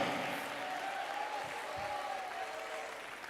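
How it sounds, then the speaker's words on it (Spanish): Congregation applause at a Spanish-language evangelical church service, sustained dense clapping filling the whole stretch at steady loudness, with a faint murmur of voices beneath. "Dale ese aplauso de alabanza al Señor."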